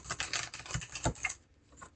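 A deck of Golden Tarot cards is shuffled close by, giving a soft, quick run of papery riffling flicks for about a second and a half before trailing off into a few faint taps.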